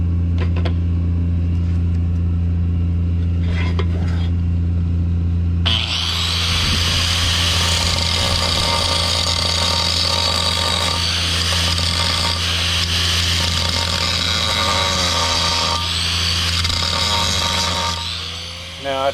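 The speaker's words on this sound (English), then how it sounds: "Now I'll take grinder, bevel this real good so I can get a good bead up in there." Angle grinder bevelling a worn steel chisel plow part on a John Deere 712 for welding, a loud continuous whine starting after a quiet stretch of hum and clatter and holding steady to the end.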